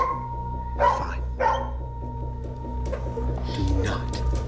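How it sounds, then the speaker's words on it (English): A dog barks twice in short sharp bursts near the start, with people talking over a steady low hum that continues throughout. "if he keeps barking, well, the neighbors are gonna call the cops"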